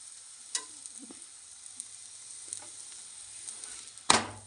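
A mixed paratha fries on a pan with a steady, quiet sizzle, broken by a few sharp clinks and scrapes from a utensil.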